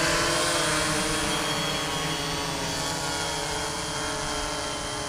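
A Tovsto Aegean GPS quadcopter drone spins up at full throttle and takes off, its propellers giving a loud, close, steady high-pitched whine that fades slightly as it rises.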